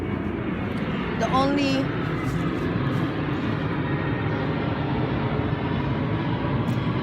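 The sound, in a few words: airplane flying overhead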